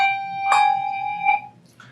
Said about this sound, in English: my left hand is playing the lower bells and my right bell the higher ones